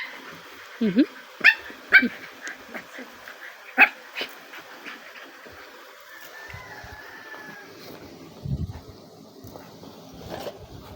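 A pet dog barks in short, sharp yaps at a home, with several bursts in the first few seconds and another later, heard at moderate distance while people talk and a rooster crows in the background.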